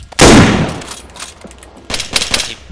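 A single loud, sharp gunshot opens the moment in the IFA3 WarMod game, fading out, and a few softer pops and scuffs follow a second later.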